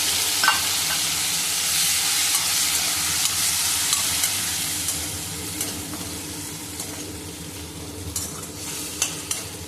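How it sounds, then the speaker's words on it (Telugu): Ground mint paste hits hot oil with frying cashews for pudina rice, giving a steady close-up sizzle and crackle with occasional stirring scrapes and spatters throughout, no voices. "ఇలా పేస్ట్ చేసుకున్న దాన్ని ఇప్పుడు మనం ఫ్రై అవుతున్న జీడిపప్పుల దాంట్లో వేసేసుకొని ఫ్రై చేసుకోవాలండి"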